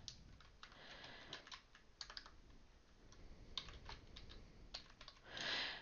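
Keystrokes on a computer keyboard while a password is entered at a server login: quiet, irregular clicking in uneven bursts, with a denser flurry of keys near the end and no talking.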